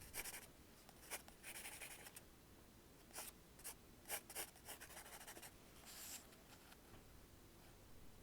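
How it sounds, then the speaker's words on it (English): A pencil scratches across sketchbook paper in quick bursts of strokes with brief gaps between them, close up and very quiet, with no talking. "I just take this blue pencil and I just use it to refine some of the stuff"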